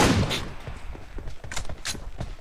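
Gunfire from shooting a boss in a video game: a dense burst of sharp shots at the start, then scattered, lighter reports and pops, fairly quiet, with no talking.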